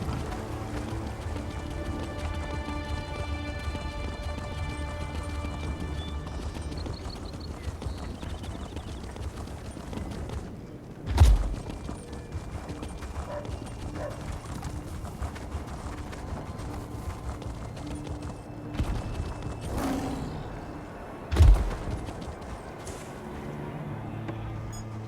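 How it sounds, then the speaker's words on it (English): Horses at a stable in Elder Scrolls Online's Alik'r Desert: soft hoof clopping and shuffling over steady ambient game music, with two brief louder thumps. "The horses are restless."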